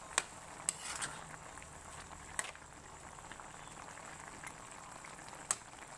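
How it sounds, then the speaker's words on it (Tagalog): Stingray adobo liquid simmers in a pot, a faint, steady low bubbling broken by a few sharp clicks and ticks, as if a utensil taps the pot, with no talking. "Ayan, kumulo na siya guys."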